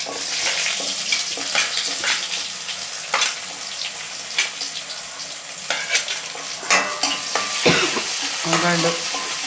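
Sliced onions with mustard seeds and fennel fry in a pan, giving a loud continuous sizzle broken by repeated spatula scrapes and stirring clatters at close range, with no speech.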